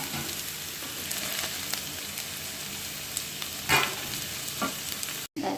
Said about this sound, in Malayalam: നമ്മളെ വെണ്ടക്ക ഫ്രൈ ആയി വന്നിട്ടുണ്ട് കേട്ടോ